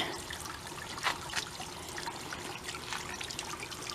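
Steady running water trickles and splashes continuously, a soft outdoor flow with occasional brighter spatters.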